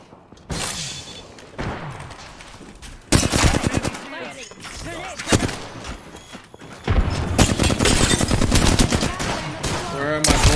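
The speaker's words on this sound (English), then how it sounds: "I just shot my PK twice without animation." Peacekeeper shotgun fire in Apex Legends comes in loud, booming blasts, with dense bursts of gunfire and thuds crowding together in several heavy clusters, and quieter stretches of game noise in between.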